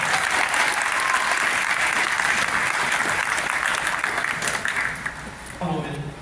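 A crowd at an 8th grade middle school graduation ceremony applauds in a loud, sustained wash of clapping that eases slightly toward the end, with faint voices underneath.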